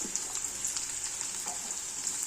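Vegetables and sprouted legumes fry in a pan with a steady, soft, even sizzle and a few light stirring scrapes, no voices present.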